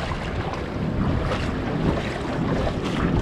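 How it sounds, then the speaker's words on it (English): Strong wind roars steadily across the microphone beside the ocean, with broadband buffeting and a low rumble of surf underneath, loud and continuous throughout with no speech. "It's bloody windy."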